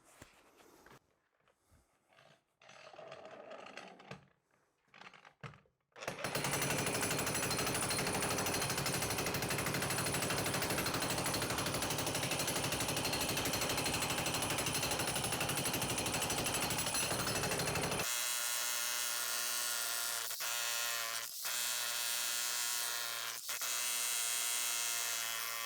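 A jackhammer breaks up a basement concrete floor: after some scattered knocks and handling noise, a loud, continuous close hammering roar runs for about twelve seconds, then gives way to a steady machine hum with a few short breaks.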